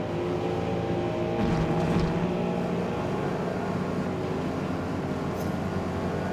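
A Ford Mustang engine in Forza Motorsport holds a steady, droning roar at constant speed, loud and close with no talking, and rises briefly in pitch midway.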